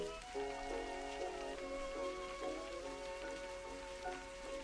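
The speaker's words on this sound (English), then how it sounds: "Actually, I think it's just raining." Rain patters continuously in the video game Expelled!, a steady wash of drops beneath a looping tonal game soundtrack at moderate level.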